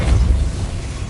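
In Hogwarts Legacy, a Depulso force spell bursts out as a short, close, heavy whoosh-boom with a low rumbling thump that fades quickly.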